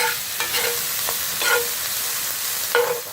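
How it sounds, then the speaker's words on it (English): Bacon frying in oil in a pan at a campsite, a soft continuous sizzle with a few brief stirring scrapes, close and moderate in level, with no talking. "Let's get that bacon going."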